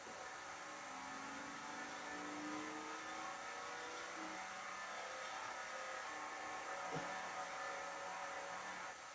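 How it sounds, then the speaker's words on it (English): Truck with a loud, damaged exhaust; a faint, low engine drone with mild revving swells holds steady throughout. "Ooh, it sounds loud. I think you might need a new exhaust system"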